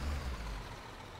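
A truck engine in the Construction Simulator video game drones with a low, steady rumble, loud and continuous with no talking over it.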